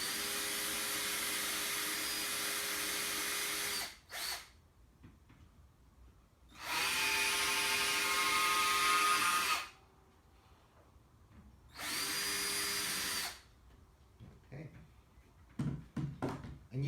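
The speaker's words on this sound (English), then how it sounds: "We're just going to use a small drill." A small power drill whirs in three steady runs of a few seconds each, starting screw holes, separated by quiet pauses, close by.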